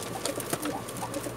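Pigeons of Pakistani origin coo in soft, repeated low calls at close range, a few overlapping throaty notes over a steady background hum.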